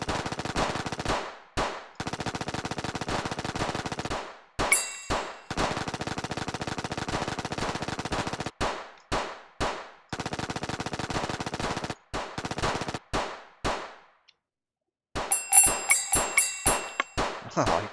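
Rapid automatic gunfire from enemies armed with rifles and pistols in the platform shooter Vidya Dash, coming in dense bursts separated by short gaps, with pinging impact and pickup chimes near the end.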